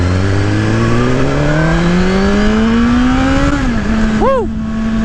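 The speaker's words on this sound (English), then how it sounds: "This bike is starting to howl." A 2018 Suzuki GSX-R1000 sport bike howls loud and close, its engine note climbing steadily through the revs before a quick dip and a short burst of rising, warbling tones as it revs again.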